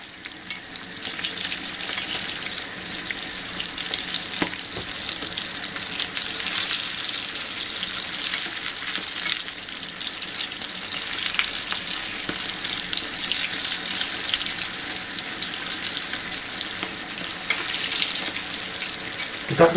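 Food frying in a pan, a steady dense sizzle and crackle that holds close and loud throughout, with faint stirring and a few water-like splashes mixed in.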